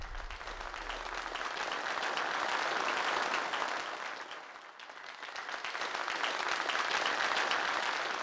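Party guests at a special invitation event in a Turkish-dubbed Indian drama applaud together, a full, sustained round of clapping that dips briefly midway and then swells again.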